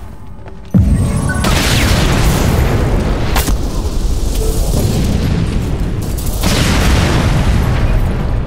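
A grenade bursts with a sudden loud boom in the online shooter Ghost Recon Phantoms, followed by a sustained rumbling blast and a second surge of explosive noise later on.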